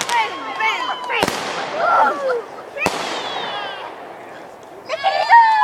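Fireworks burst outdoors in several sharp, loud cracks spread over a few seconds, with whistling and crackling trails between them as people talk and call out in the background.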